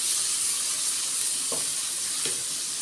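Dried fenugreek and spices sizzle as they roast in a pan for a Punjabi kadhi with green peas, giving a steady close frying hiss with two brief stirring scrapes, and no talk.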